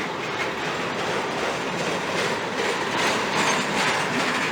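CSX ES44AH locomotives and freight cars roll steadily past in a rail yard, giving a loud, continuous rumble with wheel clatter and faint squeal throughout.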